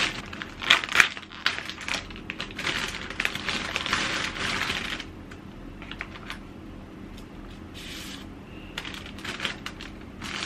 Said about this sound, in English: So let's open this 떡볶이 packaging.